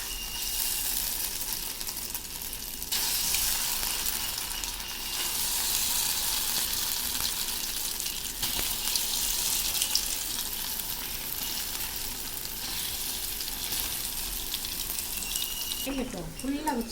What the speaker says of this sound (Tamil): இப்போ காலிஃப்ளவரை போட்டு நம்ம ஃப்ரை பண்ணி எடுத்துடலாம்.